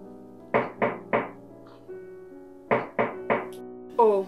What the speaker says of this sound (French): on dirait que quelqu'un est à la porte